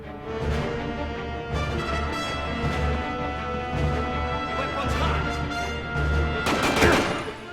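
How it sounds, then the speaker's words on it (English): Mark III LLD assault rifle fire in the Quantum of Solace game, inside a science center, comes as scattered short bursts under a dense layer of game noise and music, with a sharper crashing burst near the end. "This is the Mark III LLD, and it's supposed to be a modern assault rifle."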